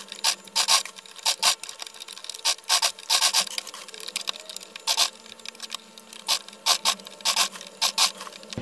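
Sewing machine stitching a seam on an off-shoulder gathered dress, running in short, close, loud mechanical bursts with brief pauses between them.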